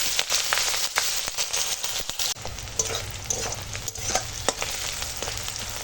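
Onion and green chilli frying in oil tempered with black cumin, a loud, dense crackling sizzle up close with spoon scrapes and taps, the hiss softening slightly after a brief dip partway through.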